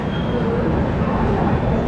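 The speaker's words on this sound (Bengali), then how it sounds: "আর ঠিক 27 মিনিট বিলম্বে আমাদের ট্রেন পৌঁছাচ্ছে" A Rajdhani Express train pulls into Samastipur Junction with a loud, continuous rumble of rolling wagons and wheels that stays steady and close throughout.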